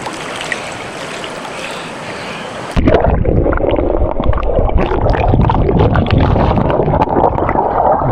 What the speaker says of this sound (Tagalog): Dinadala tayo ng tubig pa ganun.